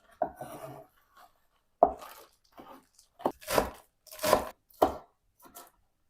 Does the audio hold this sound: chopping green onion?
yes